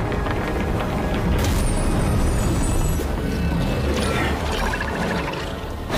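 Explosion effects in an animated fantasy fight between a young man and divine warriors, where a body blazes and bursts: a loud, dense, continuous rumbling barrage with mechanical clanking and layered booms.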